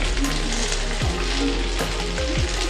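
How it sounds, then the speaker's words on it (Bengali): Soya chunks stirred and fried in hot oil give a steady, close sizzle, with a few scraping stirs of the spoon mixed into the crackle. "তো সবগুলোকে আমি একটু তেলে ভালো করে একটু নেড়ে নেব।"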